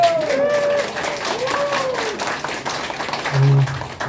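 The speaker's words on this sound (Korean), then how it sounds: "이 박수 소리만 들으니까 아주 큰 영광입니다." Audience applause at a memorial singing contest honoring a singer on the 50th anniversary of his death, a steady crowd clapping throughout with a speaker's voice over it.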